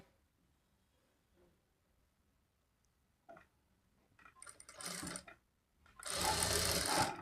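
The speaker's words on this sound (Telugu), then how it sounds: "ఇప్పుడు ఈ నెక్ వైపు నుంచి స్టార్ట్ చేసుకొని మనం హాఫ్ ఇంచ్ మార్జిన్తో స్టిచ్ చేసుకోవాలి" Sewing machine stitching a shoulder seam on lined blouse pieces, starting at the neck side, running in two short bursts, the second louder and longer, after a quiet stretch.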